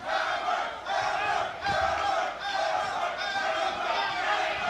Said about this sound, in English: We got people yelling hammer, we got people yelling Mexico.